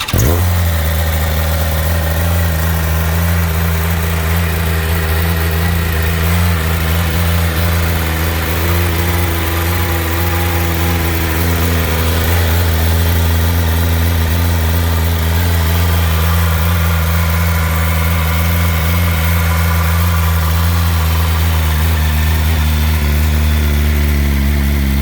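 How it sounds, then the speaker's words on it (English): Stock exhaust of a BMW M 1000 RR superbike idling close by, a steady low throbbing rumble with even pulses that holds at a constant idle throughout, with no voices. "let's listen to the stock exhaust"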